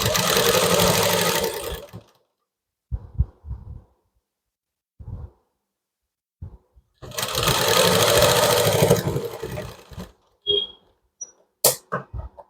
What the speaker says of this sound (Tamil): நம்ம இப்போ ஸ்டிச் பண்ணிகிட்ருக்கோம்.